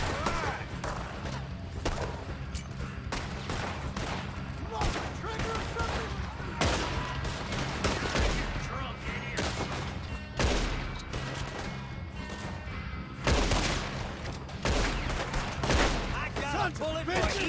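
A chaotic video game gunfight in Red Dead Redemption 2, with dense rapid gunfire cracking almost nonstop and several louder blasts, while raised voices shout over the shooting.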